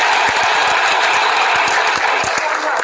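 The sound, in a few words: audience clapping loudly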